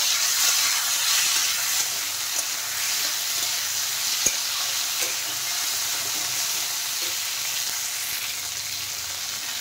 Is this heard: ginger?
yes